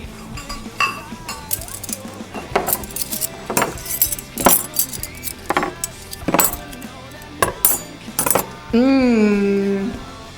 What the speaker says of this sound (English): I'm going to come over here and sort my silverware